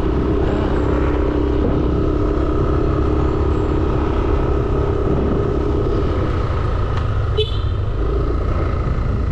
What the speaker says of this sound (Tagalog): Namumutok yung ambutso ng motor.